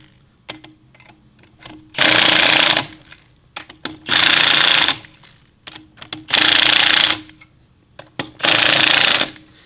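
A power impact tool tightens the rear wheel lug nuts on a Toyota FJ, with four loud, even bursts of hammering whir separated by short pauses and small clicks.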